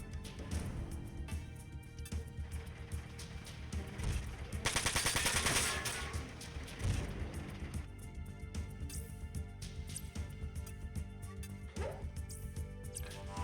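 Gunfire in the mech combat video game Front Mission 4, with a dense burst of rapid shots near the middle over continuous game music and effects, loud and busy throughout.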